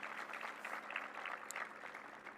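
Audience applause at a Maryland event on an investment agenda, a steady wash of clapping from a crowd that holds evenly for a couple of seconds at moderate distance.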